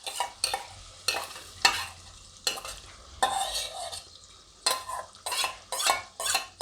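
Garlic chutney tempering sizzles in hot peanut oil, with bursts of stirring and a spoon scraping the pan in uneven rhythm, close and fairly loud.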